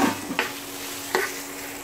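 Curry leaves, mint and coriander being sautéed in a pan for an urad dal mint-coriander chutney, with two short scraping stirs over a soft, steady sizzle, close up and without talk.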